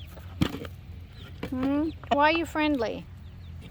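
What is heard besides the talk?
rooster clucking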